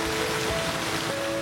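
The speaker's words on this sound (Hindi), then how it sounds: "आसमान से गिरती बूंदों ने गर्मी को भगा दिया।" Rain falls in Sialkot as a dense, steady hiss with a faint tonal background underneath, heard only for a brief moment.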